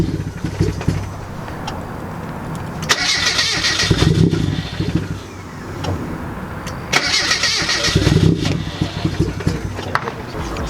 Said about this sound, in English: it still has a really hard time idling and just starting in general